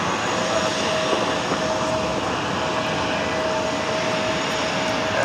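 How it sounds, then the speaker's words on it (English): An Airbus A330 jet rolls down runway 13 right at JFK airport, a steady broadband engine roar heard from a distance, continuous and even throughout with a faint tonal whine running beneath it. "There we got that high fly A330 now rolling down at 13 right"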